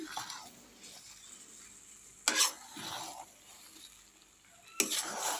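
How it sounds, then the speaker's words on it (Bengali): Salt being mixed into a plum (kul) pickle: soft scraping and stirring strokes with a few sharper clatters of utensil against the container, close up, no speech. "একটু নুনটা দিয়ে আমি মিশিয়ে নিলাম ভালো করে মিশিয়ে নিচ্ছি"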